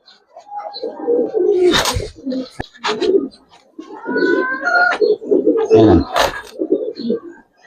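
Pigeons coo repeatedly up close, soft throaty rolling calls overlapping one another, with a few short rustles between them.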